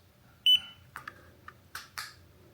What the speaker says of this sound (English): So I just pressed the M button and held it until it beeped.